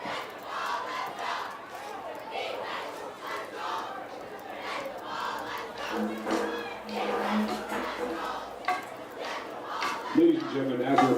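Crowd at Dilboy Stadium during a high school football game against Medford: a steady, distant murmur of many voices with scattered shouts and calls across an open field, a closer voice cutting in near the end.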